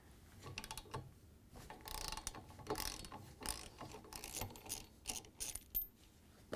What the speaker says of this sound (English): so we're going to use a ratchet. When you turn it, it's going to try to turn the whole motor rotor.